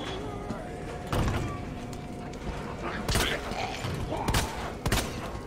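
Several sharp gunshots fired at zombies in the Resident Evil 2 demo ring out at irregular intervals over a steady game background, with a person talking between the shots.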